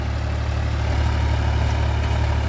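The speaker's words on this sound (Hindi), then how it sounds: "अभी ये कुछ तो रूटावेटर धकेल रहा, कुछ ट्रैक्टर आगे चला रहा, बड़ी मस्ती में चल रहा" A Massey 245 DI tractor working with a rotavator, its diesel engine giving a steady, loud, low throbbing drone that runs unbroken throughout.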